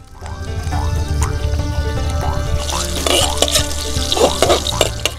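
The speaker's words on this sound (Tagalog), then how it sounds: "Lalagyan muna ng mantika ang kawali at unang igigisa ang ugat ng sibuyas" Onion roots sizzle and crackle in hot oil in a pan, a steady frying hiss with bursts of sharp popping and stirring clatter, while a voice talks over it.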